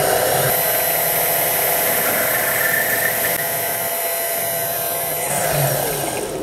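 A mini mill drills a 1/8 inch hole in metal for a roll pin, a steady loud motor whine with broadband cutting noise running throughout without pause.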